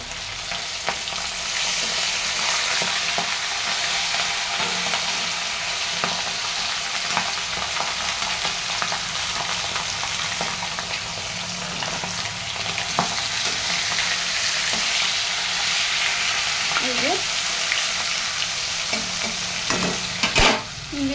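Fish fries in hot oil in a home kitchen, giving a steady, dense sizzle that holds for the whole stretch, with a few faint clinks near the end and no voices.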